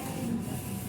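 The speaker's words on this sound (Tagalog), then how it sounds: "Ang laki ng printer, oh" A large printer running on jersey transfer paper, giving a steady mechanical whir and hum at moderate level without pause, with no voices.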